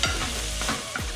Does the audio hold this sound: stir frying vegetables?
yes